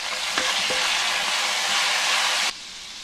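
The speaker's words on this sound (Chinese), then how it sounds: "然后加入酱油炒出酱油的香味" Fermented black beans, garlic and soy sauce stir-frying in hot oil give a loud, dense, hissing sizzle with a couple of stirring knocks, then the sound drops sharply near the end.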